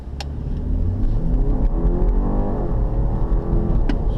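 A 2018 BMW 5 Series pulls away and accelerates on a race track, its engine droning loud and close with rising pitch as it gains speed, with a couple of brief clicks over the roar.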